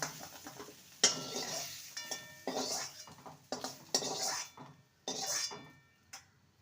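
Fried jackfruit being lifted out of a pan, heard as a series of close metallic scrapes and clatters of a utensil against the pan, arriving in irregular bursts with brief quiet gaps between them.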